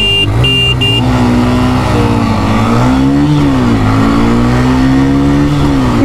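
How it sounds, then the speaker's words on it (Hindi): A Honda CB Shine 125 and a TVS Raider 125 motorcycle race side by side, their engines droning loud and steady, pitch rising and falling through the gears and close up, with no talk. "मैं दोबारा से इसको चलाता हूँ क्योंकि इनका गियर मिस हो गया था और हम लोग ये बार कंटिन्यू रेस करेंगे।"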